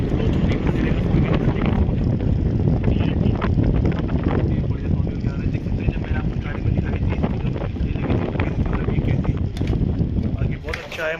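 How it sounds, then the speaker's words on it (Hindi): A freshly serviced split air conditioner blows a strong, steady rush of air, a loud continuous broadband whoosh close to the microphone that lasts throughout. "कितना ज़्यादा एयर फ्लो आ रहा है"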